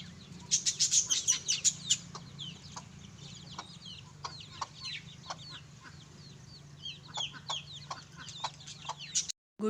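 Chickens and small birds at a riverside resort in Guijan, Assam, with a burst of clucking and chirps near the start and scattered tweets and calls over a steady low outdoor hum, ending in a brief dropout.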